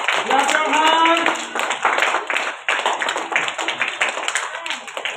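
An audience claps for prize winners at an award event, a dense patter of many hands with voices chattering over it throughout.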